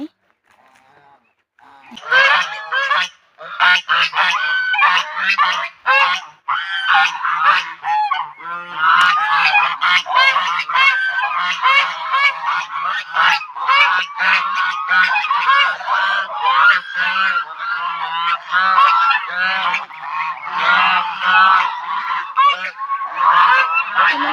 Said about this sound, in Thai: น่าจะนี่ไงคะห่าน เห็นห่านไหม